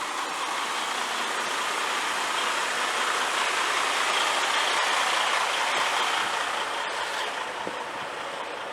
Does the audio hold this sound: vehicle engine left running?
yes